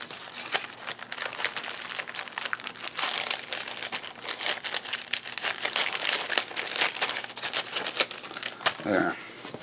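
A first aid kit is packed back into its bag, producing a continuous stream of close crinkling, rustling and shuffling sounds from plastic and fabric, with a brief louder rustle near the end.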